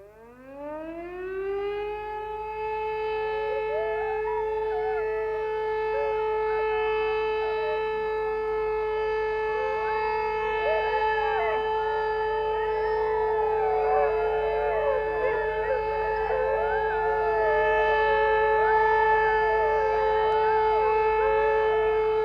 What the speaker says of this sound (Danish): Sirenen, kaldet Storevog, hyler, og grønlænderhundene svarer.